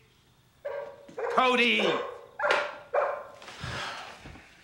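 A dog barks and yips several times at close range amid shouting voices, with sharp bursts separated by short pauses.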